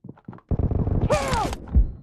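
A weapon being reloaded in the mobile shooter BGMI during a team match, heard as a brief sequence of mechanical clunks and a creaking metallic slide, with a short sweeping tone in the middle.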